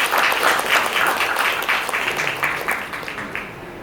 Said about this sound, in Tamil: அவங்க ஒவ்வொருக்கும் லைட்டஸ்ட் டெக்னாலஜிக்கும் ஒரு பலத்த கரகோஷம் கொடுக்குமாறு கேட்டுக்கோங்க.